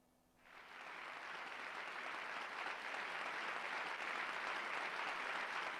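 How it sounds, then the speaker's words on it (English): Sampled applause triggered from a keyboard key in a music class, a steady dense wash of clapping that swells in within half a second and holds evenly, sustained without fading. "Just like applause."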